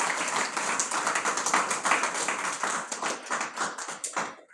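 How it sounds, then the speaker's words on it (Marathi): An audience claps in welcome at a seated religious discourse session, a dense, steady burst of many hands that holds for several seconds and then thins out at the end. "त्यांचंही आपण टाळ्या वाजून स्वागत करूयात"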